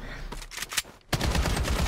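Rapid gunfire in the video game Blood Strike as a player shoots at ATMs: a few sharp shots, a brief gap, then a dense, loud sustained volley.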